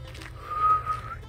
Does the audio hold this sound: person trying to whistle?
yes